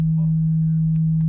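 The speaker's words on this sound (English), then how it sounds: "So now we have a sine wave for 64 16th notes." A synthesized sine wave sounds as a pure, low, steady tone that holds at one pitch, loud and alone, with no audible breaks between its rapid repeated sixteenth notes.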